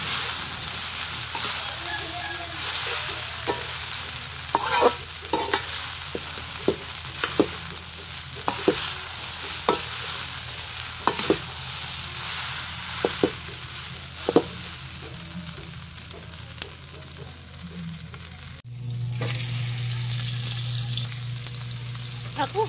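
Fried rice with fried dried fish (daing) and Magic Sarap seasoning sizzles in a hot pan over a strong flame while a utensil stirs and scrapes it in repeated strokes, with the frying getting louder near the end.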